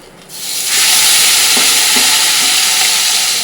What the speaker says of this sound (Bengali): রুই মাছগুলো এক এক করে সব ভেজে নেব